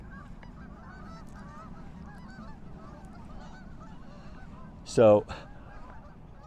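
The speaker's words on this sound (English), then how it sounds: "Look out for the geese." Geese give a sudden loud honk about two-thirds of the way through, brief and fairly close, over a low steady background hum with a faint word spoken just before.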